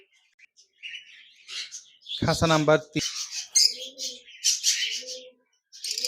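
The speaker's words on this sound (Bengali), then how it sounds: "একজোড়া লুটিনো অফলাইন লাভবার্ড পাখি রয়েছে, রানিং পেয়ার" A pair of lutino lovebirds with young in a cage, giving repeated bright chirps and short squawks in bursts, near and fairly loud, with a brief spoken phrase partway through.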